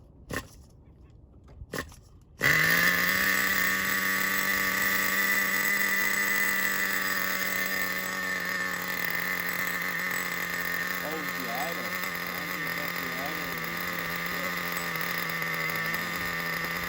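A Traxxas Nitro 4-tec 3.3 RC car's nitro engine catches after a few quiet seconds and then settles into a loud, steady, buzzing idle that holds unbroken to the end.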